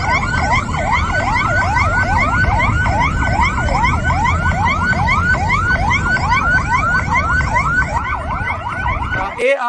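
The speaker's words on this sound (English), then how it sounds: "Now you can see you got police car." A police car siren wails in steady, rapid repeating sweeps, loud and close, running almost continuously before cutting off abruptly near the end.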